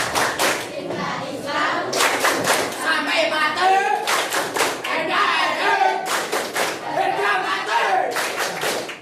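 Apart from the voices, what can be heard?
audience clapping chant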